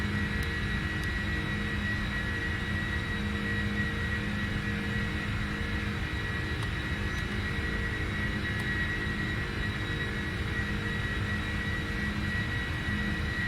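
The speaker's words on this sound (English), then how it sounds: "now the aircraft just takes some time to speed up" Jet engines of a PMDG 747-400F cargo freighter in a flight simulator spool through a steady, loud, continuous roar with a high whine layered over a low rumble as the jet accelerates down the runway, no voices present.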